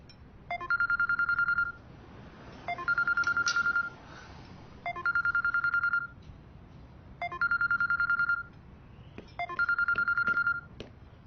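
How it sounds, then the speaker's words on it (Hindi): A phone rings in repeated electronic bursts, five evenly spaced trilling rings each lasting over a second with short gaps, fairly loud and clear over a low background hiss. "आपका फोन बज रहा है।"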